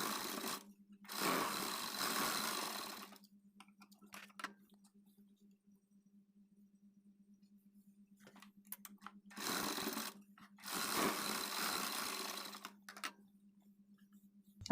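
A sewing machine stitching the back neck of a blouse runs in two bursts of rapid mechanical whirring, separated by quiet pauses filled with faint handling clicks and a low hum.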